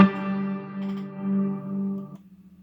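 A single guitar chord played through the FlyRig 5 reverb pedal on its full reverb setting, ringing with a wash of ambience for about two seconds before cutting off into a faint fluttering tail.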